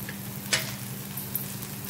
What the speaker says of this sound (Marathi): छान आता ह्या परतत आहेत कमी तेलामध्ये